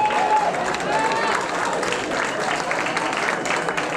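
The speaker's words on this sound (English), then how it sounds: "Let's give a round of applause for the band tonight" Applause from a crowd for a band at an evening gathering, a steady, dense wash of clapping lasting throughout, with voices mixed into the noise.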